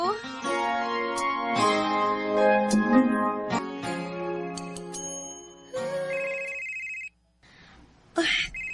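A telephone rings with an incoming call, a bright repeating electronic ringtone that fills the first seconds, then breaks off and returns briefly near the end.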